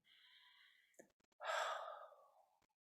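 A slow meditative exhale during guided breathing meditation: a faint airy breath, then a louder, long breathy sigh that fades out gradually over about a second, heard alone in a quiet room.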